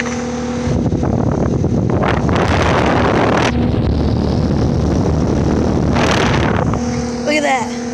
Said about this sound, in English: Man, the fan motor sounds so angry.